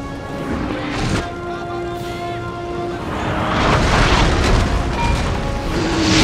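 Artillery cannons fire in a Napoleon Total War battle, heavy booms and crashing impacts over a constant din of distant battle noise that swells louder toward the end.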